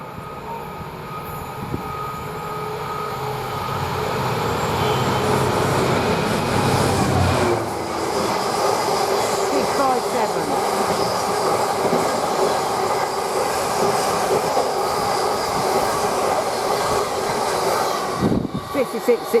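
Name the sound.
Freightliner freight train passing through Durham railway station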